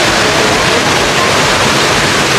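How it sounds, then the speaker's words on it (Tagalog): Indoor waterfall in the Dubai Mall pours steadily, a loud, dense, unbroken rush of falling water that fills the space without pause. "Ang ganda nitong Dubai waterfall na ito mga friend."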